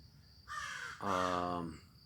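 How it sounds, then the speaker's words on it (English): Two loud, harsh crow caws close by, one right after the other, over quiet background. "Good morning, crows."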